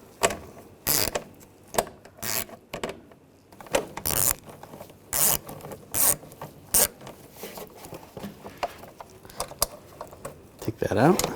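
Ratchet with a 7mm socket, long extension and universal joint working a screw loose from a parking assist sensor bezel on a 2014-2018 GMC Sierra 1500, giving bursts of rapid close clicking with pauses and rustling between them.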